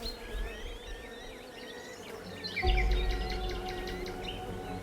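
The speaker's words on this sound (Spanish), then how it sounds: "el zumbido de las abejas resuena como el sonido de un tesoro" Bees buzz steadily in the background alongside bright, repeated bird chirps, with a louder, fuller buzzing swell joining partway through.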